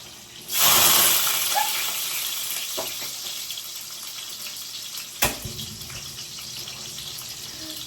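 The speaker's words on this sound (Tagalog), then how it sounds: "May tubig pala." A kitchen tap suddenly gushes with a loud, steady rush of water, then continues as a softer stream, with a brief clatter partway through.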